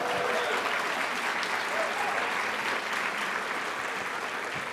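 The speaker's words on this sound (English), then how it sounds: "Yeah, you can applaud for that." Audience applause at a conference closing plenary, a dense, steady burst of clapping from a large crowd lasting several seconds, close and loud without a break.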